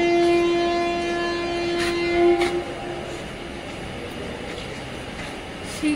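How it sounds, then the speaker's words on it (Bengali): A passenger train pulls away from the station on a trip toward Himachal's Spiti Valley, with a long horn blast up front and a steady rolling rumble of the carriages that continues after the horn stops. "অনেক দিন পর ট্রেনে করে এই ট্রেন ছেড়ে দিল"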